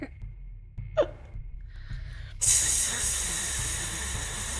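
A steady, broad hiss of gas escaping from torches in a tomb starts abruptly and keeps going, following a few quieter scattered sounds.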